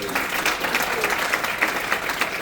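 A church congregation gives a strong round of applause during a sermon, a continuous, even wash of many clapping hands for a few seconds with faint voices underneath.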